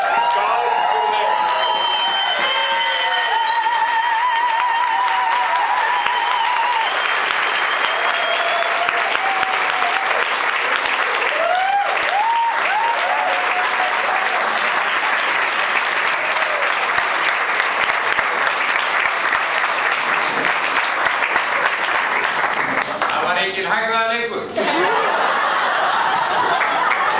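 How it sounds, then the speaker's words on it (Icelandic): Wedding guests clap in a sustained round of applause, with laughter and scattered voices and a few whistles rising from the crowd before the clapping thins near the end. "klappið svo fyrir þessu fólki"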